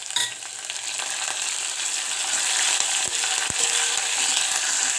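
Onions, curry leaves and garlic fry in hot oil for a tempering for amaranth-leaf dal, giving a steady, close, hissing sizzle that runs throughout with small stirring clicks.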